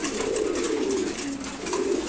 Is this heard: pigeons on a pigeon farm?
yes